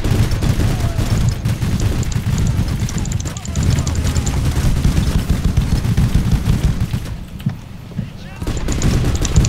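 Gunfire in the co-op video game Overdrill, a dense, continuous clatter of rapid shots and booms at high volume, briefly thinning out near the end, while players talk over it.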